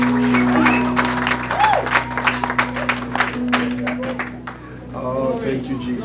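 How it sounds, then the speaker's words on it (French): Congregation clapping during a bilingual church worship service, a fairly steady patter of hands with a sustained organ or keyboard tone beneath and voices speaking and calling out over it. "Applaudissez pour Jésus."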